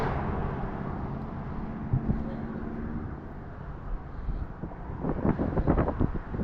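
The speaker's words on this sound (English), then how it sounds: "It is windy today." Strong wind buffets the microphone outdoors under stormy skies, a steady low rumble with gusts swelling louder toward the end, continuous throughout.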